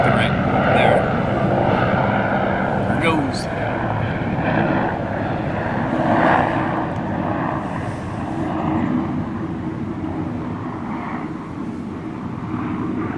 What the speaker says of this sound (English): Let's wait for the token chopper to fly over my head, shall we?